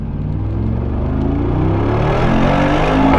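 A Brabus 900-horsepower biturbo V8 pickup truck accelerates hard. A loud, rising engine roar and rumble builds steadily from inside the cab, with no speech.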